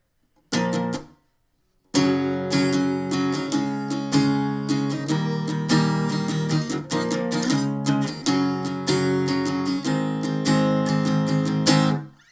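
Guitar plays a verse: a short strummed chord, a pause, then steady, driving strumming with sharp up-and-down strokes and chord changes for about ten seconds, loud and close.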